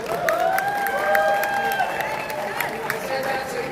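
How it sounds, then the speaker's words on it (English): A conference audience at a Texas political gathering in Dallas cheers and claps, a sustained mix of raised voices and scattered hand claps at moderate loudness, steady for a few seconds. "I said that so you could give me a cheer"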